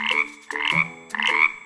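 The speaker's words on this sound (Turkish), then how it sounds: "Bu bir kurbağa." Two loud, close frog croaks, each a raspy, drawn-out call with a rising then falling pitch, separated by a brief pause; no talking.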